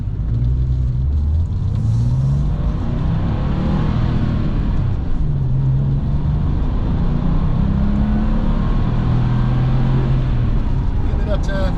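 A 1996 Porsche 911 Carrera in Arena Red drives on the road, its engine droning loudly and steadily with rising revs and a low rumble throughout, while someone talks over it from inside the car.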